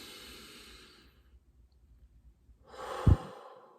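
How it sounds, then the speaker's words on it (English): A single deep inhalation, slow and close, followed after a pause by a sharp forceful exhale, with no talking. "Breathe that in with me."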